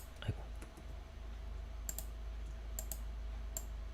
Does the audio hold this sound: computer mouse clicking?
yes